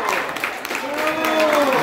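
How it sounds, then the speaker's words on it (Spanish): An audience at a school Mother's Day tribute applauds with dense, loud clapping that builds slightly, and a voice rises above it. "Un aplauso, por supuesto."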